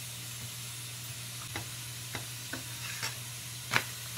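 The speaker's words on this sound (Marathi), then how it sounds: "तवा तापलेला आहे, त्याच्यावर आता थोडंसं तूप सोड, पराठा त्यावर घालायचा" A lachha paratha fries in ghee on a hot tawa, giving a faint, continuous sizzle with a few soft scraping and tapping clicks scattered through it.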